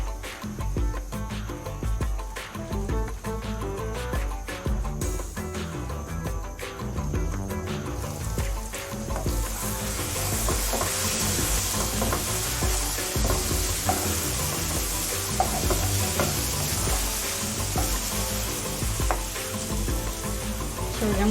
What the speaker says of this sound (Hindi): हल्की आंच पे 5 मिनट मज़ीद पका लेंगे।